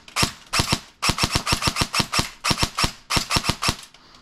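An airsoft gun fires in quick bursts and rapid single shots, about two dozen sharp, close cracks in uneven clusters with short pauses between.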